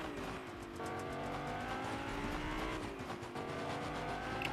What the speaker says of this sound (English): Alright, so there's a car right here. I'm gonna wind up driving this over to Catty Corner.